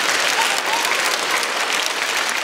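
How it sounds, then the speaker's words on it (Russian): Loud, dense applause from a television game show studio audience, steady clapping throughout with no voices standing out. "Сидор Поликарпович, вам аплодирует студия, вам аплодируют телезрители"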